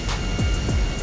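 A low jet airplane drones continuously in GTA 5 as it comes in too fast to land, with steady engine roar and a couple of falling whooshes sweeping past.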